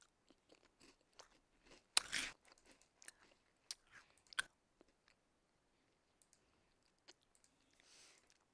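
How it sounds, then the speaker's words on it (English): Quiet, sporadic crunches of a snack being chewed close to the microphone, coming in short irregular bursts with gaps of near silence and no talking. "if you hear crunching, that's just me chewing."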